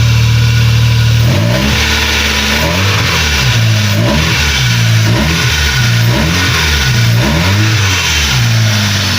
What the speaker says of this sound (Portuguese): Bati a chave no motor pra vocês darem uma acompanhada e tal, pra ver como tá o funcionamento dele